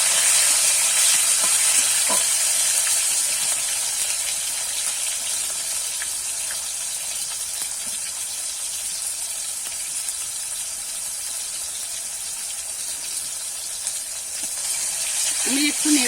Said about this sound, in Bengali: টমেটোটা একটু নেড়ে ছেড়ে ভাজা ভাজা করে দিয়েছি